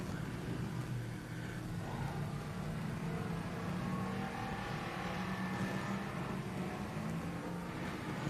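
Ford Crown Victoria race cars circling a speedway track, a steady loud engine drone held throughout with no clear pass-bys.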